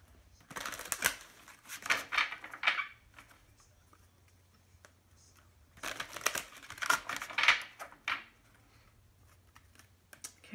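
A tarot deck, the Psychic Tarot of the Heart, shuffled by hand in two bursts of crisp papery riffling and card clicks, close and fairly quiet, with a pause between them and no talking.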